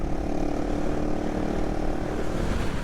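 A 2022 GPX Moto FSE450R motorcycle engine drones steadily while ridden on a street, a low, continuous rumble with strong even tone and no gear changes, loud and close, alone without talking.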